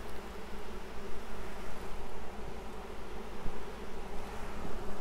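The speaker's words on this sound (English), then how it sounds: "Send this out, nice and calm bees." Honey bees buzz steadily at an open hive frame during a beekeeper's inspection, a dense, continuous drone close to the ear that holds level throughout, with no talk over it.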